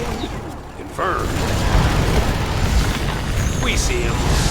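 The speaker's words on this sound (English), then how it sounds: "Ion cannon activated." In the strategy game Command & Conquer 3: Tiberium Wars, an ion cannon strike lands as a heavy, sustained explosive roar with rumbling booms, mixed with battle noise and brief voice-like unit chatter.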